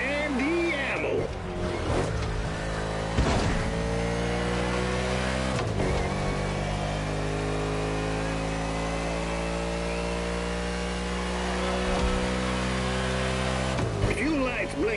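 A car engine in The Crew Motorfest racing game revs and accelerates steadily for about fifteen seconds, with dips at gear changes, while a voice talks over it.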